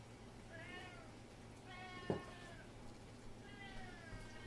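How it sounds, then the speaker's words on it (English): A cat meows several times, drawn-out, wavering cries spaced a second or so apart over a faint steady hum. "That is my cat, Dak, who is just crazy for the smell"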